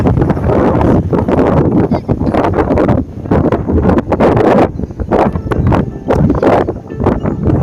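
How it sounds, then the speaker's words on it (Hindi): Strong wind blasts into the microphone during a motorbike trip, with heavy, irregular rumbling and crackling thumps, loud and continuous. "बहुत तेज़ हवा चल रहा है इधर"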